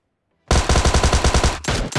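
Rapid automatic gunfire in PUBG Mobile on the Erangel map, a loud, close burst of evenly spaced shots for over a second, a brief gap, then another short burst.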